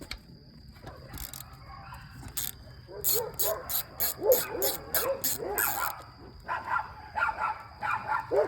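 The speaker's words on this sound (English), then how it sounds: "I got dogs here, they're barking, they're going crazy." Several dogs bark in a rapid, overlapping burst, loud and close, then keep yapping in shorter bursts over low background noise.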